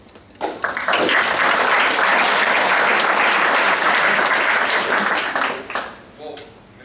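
Applause at a high school football banquet swells from scattered claps into a dense, steady ovation, then tapers off with a few last claps near the end.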